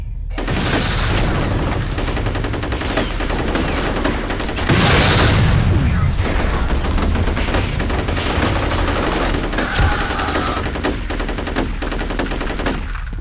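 Dense automatic gunfire and heavy explosions in the F.E.A.R. shooter game, loud sustained bursts with a big boom midway and rapid rattling volleys throughout.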